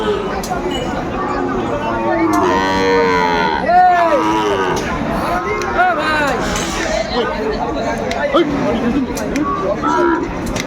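A young Sahiwal bull calf at a cattle market in Noakhali, lowing several times in drawn-out moos among other cattle, under constant crowd chatter and people talking nearby.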